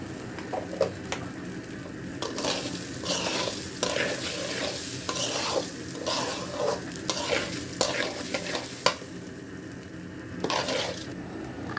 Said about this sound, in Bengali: চাউলগুলো সুন্দরভাবে ভাজা হয়ে গেছে এখন এই সময় আমি দিয়ে দেব চারটে পাঁচটা মতো এলাচ